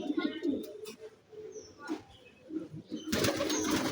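A pigeon that is being treated for watery eyes gives soft, low cooing close by in a quiet indoor space, with a brief handling rustle or wing scuffle near the end.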